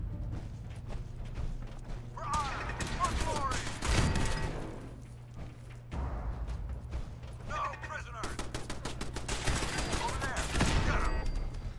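Repeated bursts of laser gun fire in the video game Fallout 4, rapid crackling volleys layered over a steady low mechanical hum, coming in two clusters with a short lull between them.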